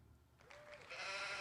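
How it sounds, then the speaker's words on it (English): A sheep bleats with a rising, wavering call, then applause and crowd noise swell and hold steady to the end. "What does the sheep say?"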